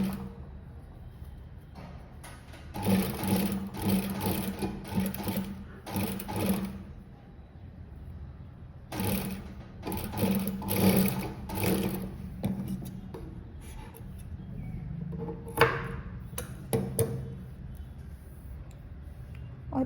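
A sewing machine stitches points on a neck-to-waist dart blouse in several short bursts of rapid, rattling clatter separated by quiet pauses, close and fairly loud, with no voices.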